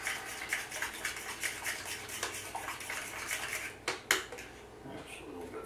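Eggs and milk whisked in a bowl, a quick rhythmic run of light metallic taps and clinks of a utensil against the bowl, a couple of sharper knocks near the end, fairly faint and close.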